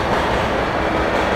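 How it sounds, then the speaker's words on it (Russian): A passing train rumbles in the video game F.E.A.R. Extraction Point, a steady, moderately loud low roar of rolling wheels and rail noise heard alone without talk. "Грохот! А, поезд!"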